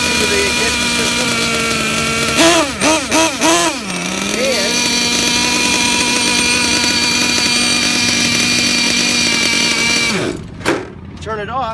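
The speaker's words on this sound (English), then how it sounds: "Idles like a champion due to the ignition system." Small gas engine of a Losi LST XXL2 RC truck with an electronic ignition sits at a steady, loud, close idle, a few quick blips of throttle early on, then cuts off near the end while someone talks over it.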